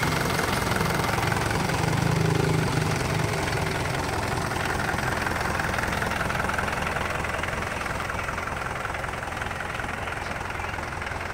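A Kubota 5018 tractor engine idles, a loud, rough, continuous low rumble with a steady knocking vibration running unchanged from start to finish and no voices.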